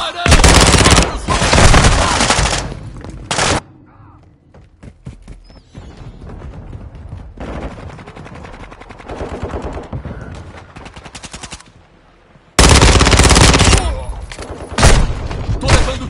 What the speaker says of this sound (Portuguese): Tô levando tiro aqui.